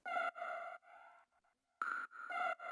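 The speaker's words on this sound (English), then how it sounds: "And then with just a lot of reverb, Echo Boy, with some haunting sort of delays." Haunting synth tones drenched in heavy reverb and Echo Boy delays, sustained chord-like swells that drop out briefly before returning, with tails trailing into the gap.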